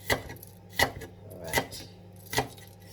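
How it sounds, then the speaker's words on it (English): A knife chops spring onions on a cutting board in four sharp, evenly spaced strokes, each a crisp knock close up with quiet gaps between. "my spring onions. I don't like it too finely chopped."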